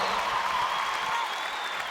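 Spectators at a Super Netball match between Fever and Lightning roar and cheer in the arena, a loud continuous crowd noise with whistle-like tones riding on top.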